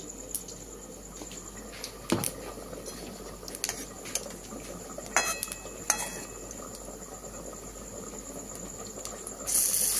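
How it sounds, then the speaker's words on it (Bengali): Spice masala with onion being stir-fried in a pan for butter chilli mushrooms, a faint soft sizzle under intermittent scraping and clinks of a spoon against the pan, no talking. "এবার আমি মশলাটাকে কষে নেব।"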